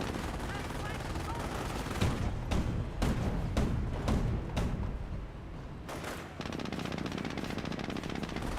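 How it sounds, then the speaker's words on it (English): Auto cannon fire in Company of Heroes, heavy rapid bursts of repeated shots thumping over dense battle noise and explosions, loud and continuous throughout. "It's so resilient to auto cannon fire."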